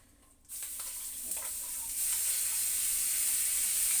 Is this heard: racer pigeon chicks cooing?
no